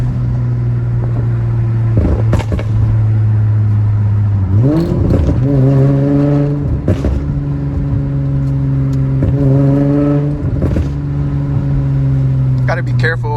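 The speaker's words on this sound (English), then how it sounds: "Let's see the pops in fourth gear." Infiniti G35 coupe in fourth gear, heard from inside the cabin as the engine drones low, then revs up and holds with a rising pitch, while sharp exhaust pops and crackles burst in at intervals; a voice speaks over part of it.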